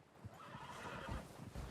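Horses whinny in the Red Dead Redemption 2 video game on PS5. A clear neigh rises over soft hoof clip-clops, with no talking.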